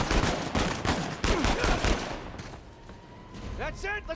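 Rapid machine gun fire in the action video game Uncharted 4 set in Madagascar, with dense bursts of shots up front that fade into game ambience and a few electronic tones near the end.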